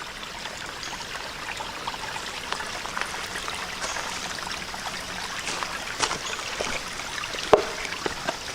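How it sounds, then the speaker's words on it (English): Small woodland stream with little mini cascades beside a hiking trail, giving a steady, soft trickling and gurgling wash of water that runs on without pause and without voices. "Nice little stream."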